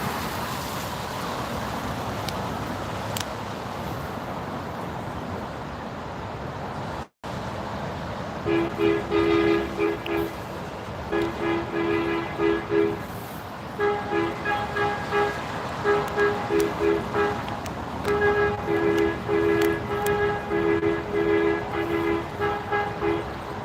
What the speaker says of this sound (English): Oh, is Tommy learning how to play songs on his train horn?